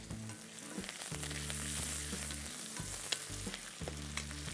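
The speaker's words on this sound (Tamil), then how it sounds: "சின்ன வெங்காயம், மிளகாய், வெந்தயம், கருவேப்பிலை, இது எல்லாத்தையும் போட்டு நல்லா ரோஸ்ட் பண்ணுங்கள்." Shallots, chilies, fenugreek and curry leaves fry in sesame oil, a dense close sizzle with a bright hiss and occasional spoon scrapes, alongside a low steady hum.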